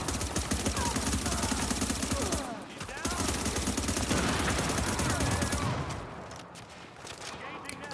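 Rapid gunfire bursts from sniper fire in a video game play loudly and almost continuously, dense volleys with game sound effects that thin out near the end.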